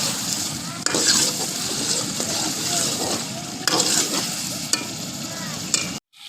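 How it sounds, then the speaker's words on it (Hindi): Chicken and potatoes stir-fry in a karahi for an aloo chicken karahi, with a steady close sizzle and repeated scraping of a spoon against the metal, louder knocks at intervals and a sudden stop near the end. "अब 2-4 मिनट के लिए आलू को और चिकन में भून लेना है।"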